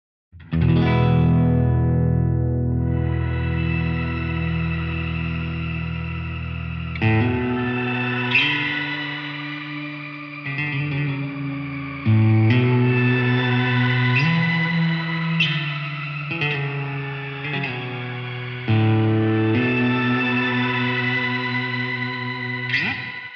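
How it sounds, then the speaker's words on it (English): A sustained guitar chord swells into a shimmering, pitch-layered reverb from a NUX Atlantic pedal, held and sustained, then new chords ring out in turn, each blooming with bright octave-up shimmer and long decaying tails, loud and alone. "If I play a chord and I hold down the reverb foot switch, it turns into a shimmer verb."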